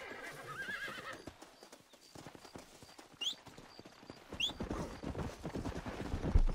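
A horse in the Western video game Red Dead Redemption trots with clip-clopping hooves and gives a couple of sharp neighs, close and moderately loud over faint game ambience.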